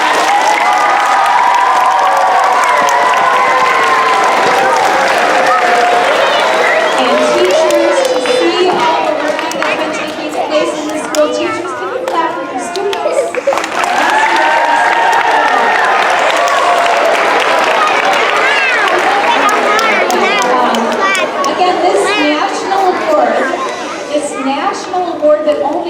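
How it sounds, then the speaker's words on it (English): At a school Blue Ribbon assembly, a large crowd of students applauds and cheers for their teachers, with loud, continuous clapping and shouts that fill the room and swell again partway through. "They deserve a huge round of applause."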